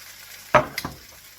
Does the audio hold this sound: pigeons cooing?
no